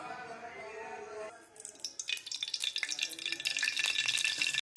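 Mustard seeds, cumin, green chilli, ginger and garlic hit a hot pan and start to sizzle and crackle loudly, with dense popping and spattering that builds after a quieter start.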